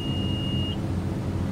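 An altitude alert tone from the Aerosoft Twin Otter flight simulator, sounding as a single steady high beep for about three quarters of a second over a constant low engine drone, with no talking.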